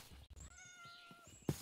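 A Minecraft cat gives a clear, drawn-out meow in the game, followed by a short thump.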